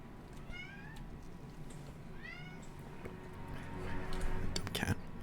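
A cat meows twice, each a clear rising-falling call, faint under low background noise and quiet whispery talk, followed by a brief sharp thump near the end.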